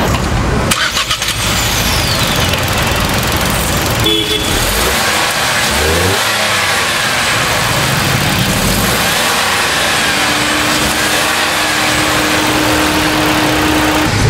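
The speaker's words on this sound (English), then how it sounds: "We'll check out the engine, shall we?" A Ford Freestyle with a 1.2 liter 3-cylinder petrol engine is started and runs steadily, with a short clatter near the start, then a continuous loud engine hum and a faint steady tone later on. No talking.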